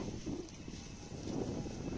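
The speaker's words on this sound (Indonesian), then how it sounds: "Lho angine teko." Wind gusting steadily outdoors, a broad low rumbling roar that swells and eases with continuous buffeting against the microphone, fairly loud throughout with no clear speech.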